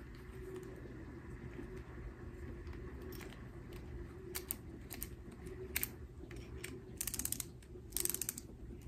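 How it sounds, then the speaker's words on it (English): A plastic household gadget ratchets as it locks into place, giving a run of small dry clicks that bunch into quick louder bursts near the end, close up over a steady low hum. "I mean, you can hear it ratcheting"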